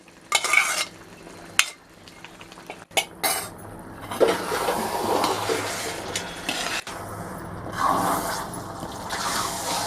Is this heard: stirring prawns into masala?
yes